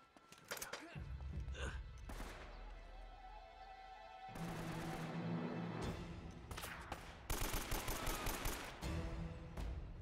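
Gunfire in the video game Uncharted comes in bursts of rapid machine-gun fusillades, loud and close, with short gaps between volleys and a few single shots, over game background noise.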